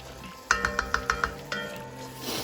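Vegetables cook down in fat in a pan for Fideo Loco, a soft sizzle running underneath as six quick, evenly spaced metallic clinks of a utensil against the pan ring out close by, then a scrape and a stir.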